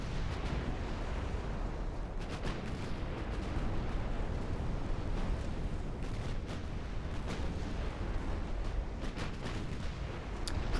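Warship main guns firing during a naval battle in Ultimate Admiral: Dreadnoughts, heard as a continuous loud rumble of heavy booms with repeated sharp blasts breaking through at irregular intervals.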